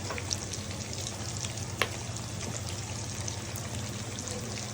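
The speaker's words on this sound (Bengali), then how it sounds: "এবার কড়াই গরমের মধ্যে আমি একটু গোটা গরম মশলা দেবো" Whole garam masala (cinnamon, green cardamom and cloves) frying in hot oil in a kadai, a soft, steady sizzle up close with a couple of small clicks, no talk over it.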